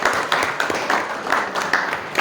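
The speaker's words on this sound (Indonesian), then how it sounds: "tepuk tangan Fajar ya" Scattered applause and clapping for Fajar at an online teacher-education mentoring session, a small group clapping steadily in irregular bursts, fairly close and moderately loud.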